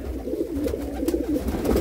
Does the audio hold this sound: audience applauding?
no